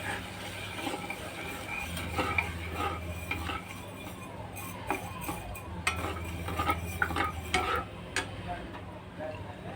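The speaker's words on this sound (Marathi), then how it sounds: "आता व्यवस्थित आपण ढवळून घेऊया." A spoon scrapes and clinks repeatedly against a pan while sugar syrup simmers with a soft bubbling, the stirring irregular and close.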